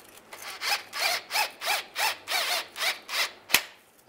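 A ratchet and 13 mm socket tighten a catalytic converter bolt underneath a 2007-2013 Chevrolet Silverado, giving about nine even ratcheting strokes in a steady rhythm, close and moderately loud, ending with a sharp click.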